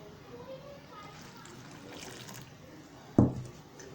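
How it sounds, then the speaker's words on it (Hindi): Lukewarm water is poured into flour for puri dough: a short, close splash near the end after a quiet stretch of faint background noise. "अब हम इसमें ये नीम गर्म पानी शामिल करेंगे।"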